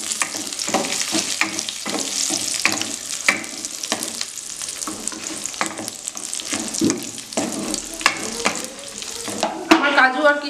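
Cashews and raisins lightly frying together over a low flame, a close crackling sizzle broken by repeated scraping stirs and clinks of a spoon against the pan.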